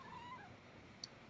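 A house cat meows into a microphone during a game jam session, a short soft mewing call near the start, then a quiet background with a small click.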